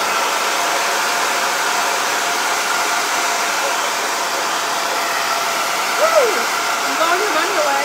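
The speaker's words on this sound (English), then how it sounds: "Maybe I need to blow dry it a little" A hair dryer blows steadily and loudly to dry paint on a rustic soup can vase, with a brief voice murmuring near the end.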